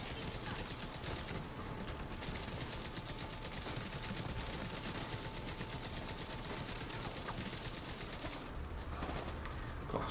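Sustained gunfire in the video game The Division 2, a dense, unbroken stream of rapid shots with mixed impacts and effects that stays loud from start to finish.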